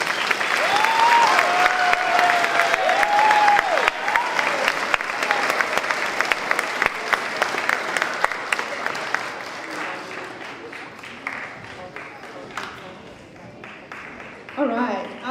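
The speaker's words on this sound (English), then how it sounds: "Let's give these kids a round of applause" Audience applauding student musicians at a middle school spring instrumental concert, a dense, steady wash of clapping that holds for most of the stretch and gradually thins, with a brief whistle-like tone and some voices near the start.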